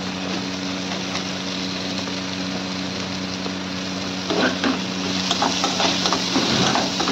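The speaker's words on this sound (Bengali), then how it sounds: "পেঁয়াজটা দিয়ে দিচ্ছি, একসাথেই ভাজা হবে।" Onion fries together with whole garlic and chopped ginger in a pan, giving a steady loud sizzle that swells with stirring scrapes in the final seconds.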